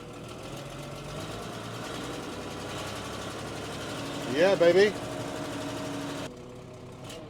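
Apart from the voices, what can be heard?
5130 tractor engine driving out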